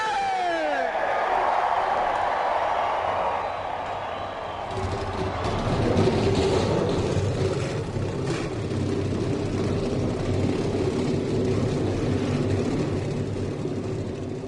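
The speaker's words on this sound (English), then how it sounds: "Drivers, start your engine!" Race trucks of the Napa Truck Series at Dubai fire their engines at once, a voice giving way to a sudden, dense, sustained roar of many idling engines.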